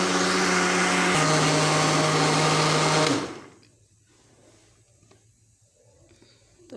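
Kitchen blender churning cream (malai) into butter, a loud steady motor whir with a small pitch drop partway through, then cut off abruptly, leaving a quiet room with faint handling noises.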